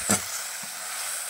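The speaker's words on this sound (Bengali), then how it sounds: "ভালো করে মশলাটা কষিয়ে নেব।" Spice paste with turmeric and salt stir-fried in hot oil for a fish curry, a soft continuous sizzle with a brief scrape of a spatula at the start and another light knock shortly after.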